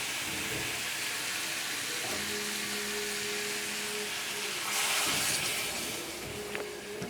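Potato and pointed gourd curry with spices sizzles steadily in a pan, then a brief louder gush of water being poured in swells and settles back into the simmering hiss.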